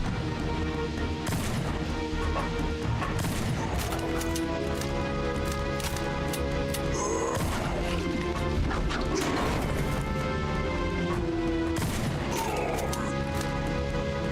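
Repeated heavy blasts and crashing impacts from a shotgun in the horror game Mask of Fobia, hitting at irregular intervals over a steady backdrop of tonal game music.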